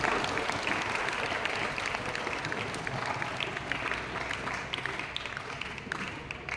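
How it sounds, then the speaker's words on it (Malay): A crowd at a Malaysian school farewell ceremony gives thunderous applause, dense continuous clapping that holds steady for several seconds and eases slightly toward the end. "Beri tepukan gemuruh sekali lagi kepada mereka."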